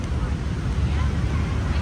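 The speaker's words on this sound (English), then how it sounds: "Very windy night." Low, rumbling wind on a city street at night, on Nguyen Hue Walking Street, buffets the microphone in a continuous gusty roar, heavy in the bass, with no clear voices.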